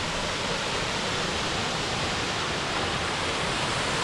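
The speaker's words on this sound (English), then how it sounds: "Whether we can sleep with the noise of the waterfall remains to be seen" A steady, dense roar of a waterfall in County Donegal, Ireland, fills everything evenly, constant and broadband with no pauses.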